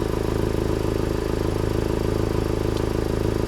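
A Honda Civic Type R idles with its Remus catback exhaust baffle fully closed, giving a steady, low, even rumble with a fine rhythmic pulse, recorded close with no talking.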